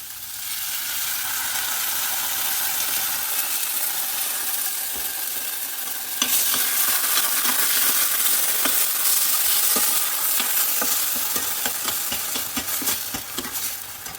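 Pureed tomatoes poured into a hot frying pan for channa masala, the sizzle jumping louder partway through, then steady frying with repeated scraping stirs against the pan.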